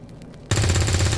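Gunfire in the video game XCOM 2: a brief quiet gap, then a sudden loud burst of rapid automatic shots that keeps going to the end.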